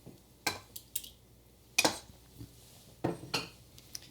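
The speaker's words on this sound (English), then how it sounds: "And I'm going to mix this up." Eggs being whisked in a bowl for gluten-free muffin batter, heard as a few sharp clinks and scrapes of utensil against the bowl in irregular bursts, close up, with no talking.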